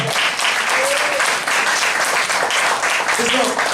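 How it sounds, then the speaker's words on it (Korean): A church congregation at a Korean revival meeting bursts into sustained, dense applause that fills the space, with a few voices calling out over the steady clapping. "박수로 영광."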